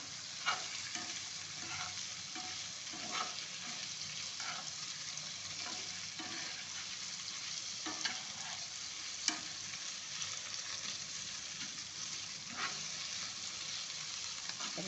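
Paneer cubes roast in a pan over a full gas flame, sizzling steadily with repeated scraping stir strokes and occasional sharp spatters, close and alone without speech.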